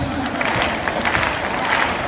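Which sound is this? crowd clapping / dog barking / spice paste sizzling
crowd clapping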